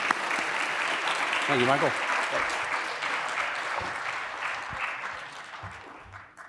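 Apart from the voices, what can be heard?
audience applause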